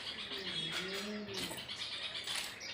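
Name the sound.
birds chirping and cooing at home nest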